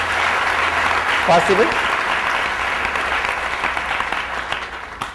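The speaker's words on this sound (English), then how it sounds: "let's give a good clap for their arrangement" Audience clapping at a spiritual talk, a loud sustained round of applause filling the room with a short spoken word and a brief voice passing through it.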